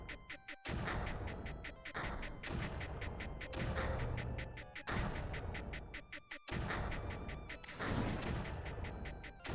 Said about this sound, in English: Explosions are the beat. I do like the sound effects of this game.